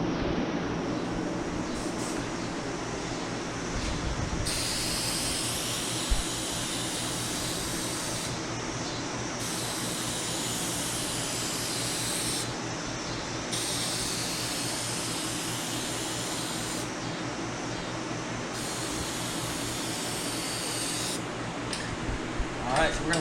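Spray paint hisses in long bursts as a first coat goes onto a car grille, steady broadband spraying with brief pauses between passes, close and fairly loud over a low background hum.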